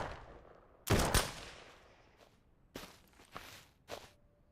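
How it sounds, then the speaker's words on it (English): Gunfire in the zombie survival game SurrounDead: one loud, close shot, then several fainter, scattered reports spaced over a few seconds, with quiet gaps between them. "The heck are you shooting at?"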